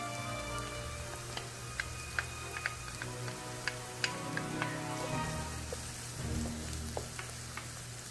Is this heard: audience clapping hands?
no